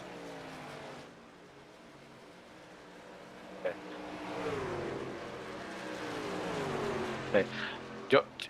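Several race cars in a virtual oval racing game drone and whine at steady pitch, engines rising and falling as they pass, with a commentator speaking over them and a few sharp clicks near the end.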